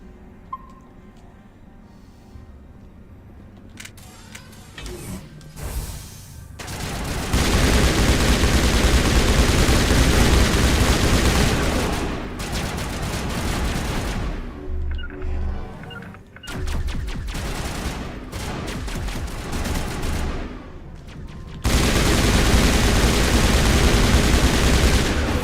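Bursts of rifle fire in the video game Mass Effect, loud sustained volleys separated by short gaps, following a quieter stretch at the start.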